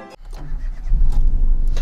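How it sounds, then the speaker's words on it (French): Car fitted with oversized bus wheels, its engine catching and settling into a steady low idle close by after a short mechanical clunk. "Le moteur marche super."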